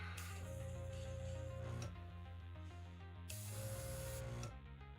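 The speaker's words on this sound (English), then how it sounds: "it's gonna be one of those days with the airbrush," An airbrush sprays paint onto a Warhammer 40k Transport Impulsor model in a steady, close hiss that cuts out briefly and then resumes.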